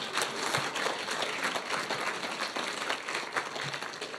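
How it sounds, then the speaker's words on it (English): Steady applause from a panel discussion audience, a dense even patter of many hands clapping at a fairly distant, moderate level with no talk over it. "clap. You can clap."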